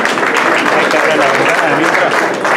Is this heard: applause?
yes